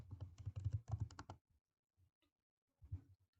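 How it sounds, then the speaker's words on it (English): Fingers type on a computer keyboard, a quick close run of clicky keystrokes, then quiet, then a few more taps, with no talk. "I am going to type Andrina."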